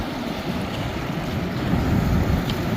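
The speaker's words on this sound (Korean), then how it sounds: "파도 높이는 한 2m 돼 보입니다" Sea waves about two metres high churn and roll in a steady, close rush of low surf noise, mixed with heavy wind buffeting against the microphone.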